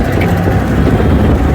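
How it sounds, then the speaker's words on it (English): Steady traffic rumble from a nearby street, a loud continuous wash of passing vehicles with no clear breaks. "You can hear the traffic."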